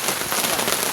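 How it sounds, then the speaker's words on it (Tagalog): Rain patters on a camping tent on a hilltop at Splendor Hills, Tanawan, Batangas, a dense, steady hiss of drops heard up close for about a second. "maulan dito sa Splendor Hills, Tanawan, Batangas"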